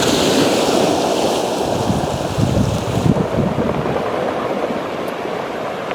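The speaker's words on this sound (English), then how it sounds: "The music of the waves on the rocks." Surf washes over a rocky beach in a continuous loud roar, with rolling surges and gritty hiss from water churning the stones, plus some wind buffeting the microphone.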